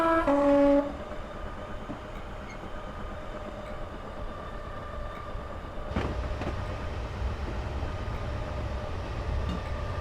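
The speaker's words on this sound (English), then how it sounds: "Oh, it's a train." A Southern Class 421 electric train runs in Train Simulator on the London to Brighton line, sounding a brief two-tone horn at the start before a steady rolling rumble with a clunk midway.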